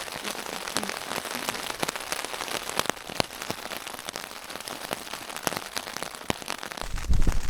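Steady early-morning rain patters on a surface at a wild camping spot, with scattered sharper drips, a continuous close wash of drops with no voices.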